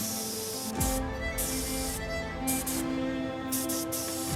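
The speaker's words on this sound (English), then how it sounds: "So now spray it with a black chocolate to color match the plate." Several short hissing spray bursts of black chocolate onto a plated dessert start and stop in quick succession over a steady low hum.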